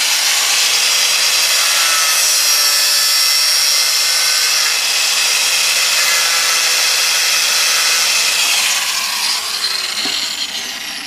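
An angle grinder cutting plastic plant-fence material gives a loud, high, continuous whine with a rough cutting hiss, steady throughout and easing slightly at the end, with no voices.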